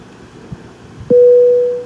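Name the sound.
aircraft avionics sound in FSX flight simulator video game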